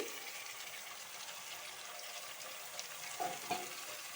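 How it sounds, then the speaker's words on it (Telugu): Chicken fries in a pan with onions for biryani, a quiet steady sizzle running throughout with a couple of soft stirring scrapes near the end. "ఇలా వేసుకొని ఒకసారి ఒక రెండు నిమిషాల పాటు హై ఫ్లేమ్లోనే వేపుకోండి"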